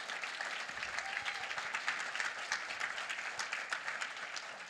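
Steady crowd applause at a New Hampshire primary campaign event, a dense, continuous patter of many hands clapping throughout, moderately distant and unbroken by speech.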